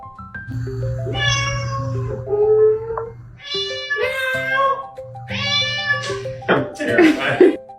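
A cat meows repeatedly at close range in a lively back-and-forth, with drawn-out, rising and falling calls that come in quick succession and end in a rougher, more strained cry.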